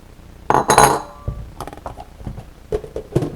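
A utensil clinks and scrapes against a bowl while batter for frying crappie is mixed, giving a loud clatter at first and then several lighter, irregular taps.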